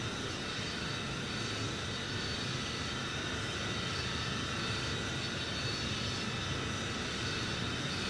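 Engines of a B-52E bomber roaring steadily through a takeoff run in the flight simulator FSX, a dense, continuous loud drone with no pauses or voices.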